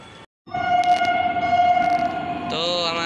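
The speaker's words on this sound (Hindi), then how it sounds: "तो हमारी मेट्रो आ चुकी है" A metro train pulls into a station, its long steady tonal whine and rolling rumble building loudly after a brief gap, with a rising electric motor tone near the end as it slows.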